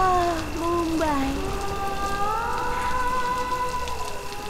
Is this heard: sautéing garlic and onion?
no